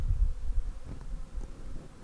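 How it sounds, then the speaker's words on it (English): Honeybees hum around a hive frame as a nucleus colony is installed in a backyard hive, giving a low, continuous, close buzz that swells and fades. "Now there are a bunch of bees that are clustered up on the inside."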